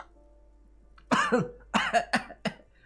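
A voice imitating a fake cough, a few short rough bursts, two then a couple more, close and fairly loud after a near-silent start.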